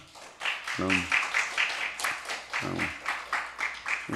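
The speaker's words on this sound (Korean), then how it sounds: "자, 안전지사에서 박수 한번 칩시다." A congregation claps together at a Korean church prayer meeting. The clapping is rhythmic and fairly steady, with a voice speaking over it.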